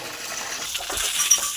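Water pours out for cows to drink on a farm, a steady splashing wash with a few small clinks and knocks from a container. It runs continuously and close by, with no voices.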